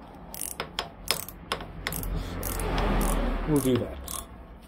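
Allen wrench working hex bolts loose on the front of a Kawasaki Z900RS motorcycle, a series of close, sharp ratcheting clicks and mechanical knocks with a longer grinding stretch, with someone speaking briefly.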